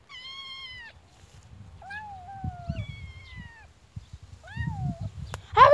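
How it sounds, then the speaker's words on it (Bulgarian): A rescued kitten meows several times, clear and close, in high drawn-out cries separated by short gaps, over low rustling and handling noise nearby. "едното котенце вика мамо"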